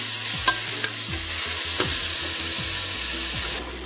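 Chopped onion frying in a pan for Palak Paneer, a steady close sizzle throughout with repeated stirring scrapes and a few sharp utensil clinks against the pan.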